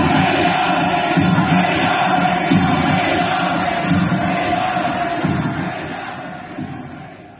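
Thousands of Iranians chanting slogans in support of the government late at night in the streets of Sabzevar, a dense, loud crowd roar with rhythmic collective shouting that holds steady and then gradually fades.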